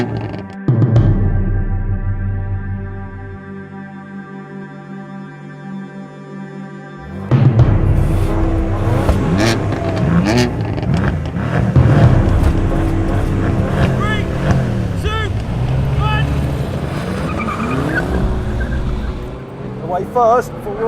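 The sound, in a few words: Audi RS5, BMW M4 and Mercedes-AMG C63 S drag racing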